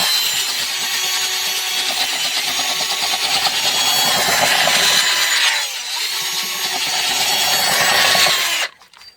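Sandpaper rubbed against a rod in steady, rapid back-and-forth scraping strokes, close and loud, continuing for several seconds before stopping abruptly.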